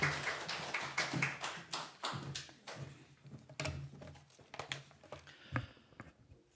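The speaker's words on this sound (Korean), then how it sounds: "우리 안남기 목사님 우리 나오실 때 큰 박수 다시 한번 보내주시기 바랍니다" Church congregation applauding to welcome a pastor during a Sunday service, with a burst of many overlapping claps rising and falling over several seconds, fairly even and moderately loud.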